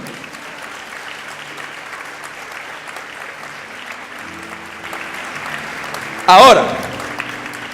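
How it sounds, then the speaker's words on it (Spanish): A church congregation applauds, a steady wash of clapping under a pastor's voice during a sermon, with a brief louder burst near the end. "Denle un aplauso a Jesús, aleluya."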